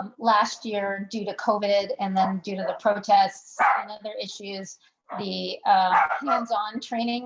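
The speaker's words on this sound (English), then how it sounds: "excuse my dogs" Dogs bark intermittently in the background of a remote public policy meeting, partly masked by someone speaking steadily over them.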